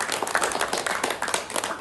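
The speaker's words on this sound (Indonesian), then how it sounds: "Boleh dong beri tepuk tangan lagi." A school talk-show audience of students claps steadily for nearly two seconds, a dense, close patter of many hands with voices talking underneath.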